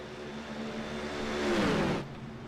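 Race car engine in a sim racing GT series event at Circuit de la Sarthe: a sustained whirring roar that rises in pitch and loudness as the car accelerates, then cuts off abruptly, heard alone.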